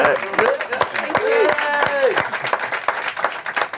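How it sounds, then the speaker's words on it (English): An audience applauds with a burst of clapping and a few cheers, loud and close, lasting the whole stretch. "So let's give them a round of applause real quick."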